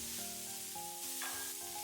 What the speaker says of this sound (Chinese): 繼續翻炒，把肉片炒香，炒變色